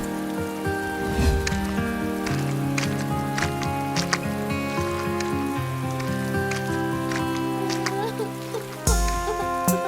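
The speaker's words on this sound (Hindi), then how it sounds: "अचानक बड़ी जोर से बारिश शुरू हुई" Steady heavy rain hisses beneath prominent melodic background music, with a sharper burst of noise near the end.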